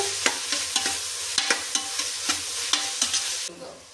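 Bread slices roasting in a pan for a bread pizza, a steady low sizzle punctuated by about a dozen regular spatula taps and scrapes, close and fairly loud, fading at the end.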